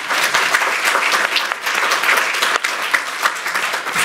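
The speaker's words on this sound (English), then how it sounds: "I think she deserves a round of applause." Audience at a public conversation on Igbo spirituality in contemporary Nigeria breaks into steady, full applause, dense clapping sustained throughout at a close, even level.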